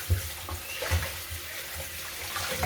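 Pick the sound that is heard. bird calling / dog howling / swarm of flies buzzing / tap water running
tap water running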